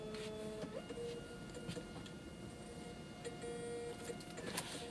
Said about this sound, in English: Select my Dymo printer.